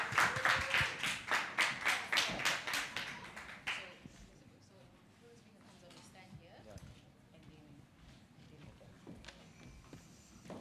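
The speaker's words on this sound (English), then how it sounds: "Ladies and gentlemen, a warm round of applause as we welcome Colette Rickert." Audience applause greets a speaker walking on at a women's summit, dense rhythmic clapping loud for about four seconds, then fading into scattered claps and room murmur.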